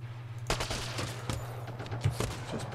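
A gun fires in the Mass Effect video game, with several sharp shots spread over a few seconds above a low steady hum and no talk.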